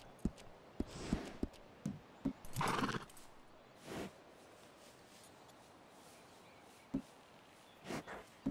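A horse in Red Dead Redemption 2 Online gives a whinny amid scattered hoof clip-clops and short thuds, fairly faint with quiet gaps between the sounds.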